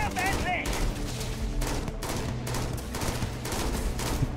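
Gunfire in the Starfield video game, a run of rapid repeated shots at moderate level with a brief electronic chirp at the start.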